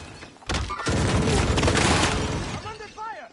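A frag grenade blasts in a military video game, a loud sustained roar and crackle of debris lasting about two seconds, with a voice speaking briefly afterward.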